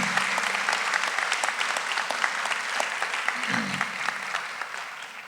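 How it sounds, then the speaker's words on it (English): Audience at a medical school white coat ceremony giving a round of applause, steady hall-filling clapping that holds evenly, then begins to thin near the end. "So how about one more round of applause?"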